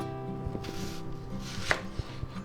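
Quarter of an onion being chopped with a knife on a board for a sausage, hot pepper and cheese tortilla wrap, giving a few separate, fairly close knife taps against a steady background hum, with no talking.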